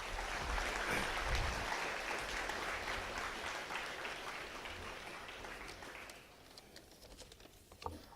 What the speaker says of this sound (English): Please give a big applause for that.